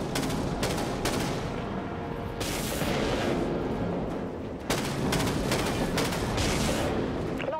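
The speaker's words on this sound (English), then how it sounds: "Those guns are pretty powerful up close." Ship guns firing in the Dreadnought naval combat video game, heavy booming salvos with sustained rumbling roar, loud and close, with several sharp onsets spread across the stretch.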